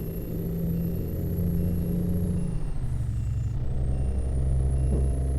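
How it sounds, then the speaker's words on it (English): Kenworth T908 truck engine in American Truck Simulator, a steady low diesel rumble with a constant drone, a brief dip and shift midway, then settling back into the same even idle-like growl. "I'm just listening to the truck at the moment. I'm just loving it. I like that engine an awful lot."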